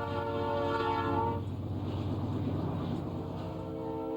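A train passing on straight track near Hawley on the Feather River route, a strong low droning engine tone with a horn-like harmonic chord fading after the first second into rumbling rail noise.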